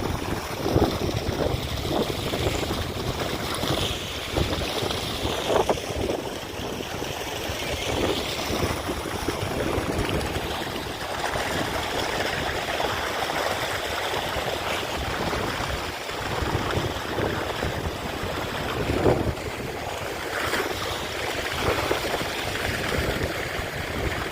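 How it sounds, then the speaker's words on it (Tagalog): Strong sea waves crash and churn against boats in a continuous roar, with gusty wind rumbling across the microphone throughout. "Napakalakas ng alon dito."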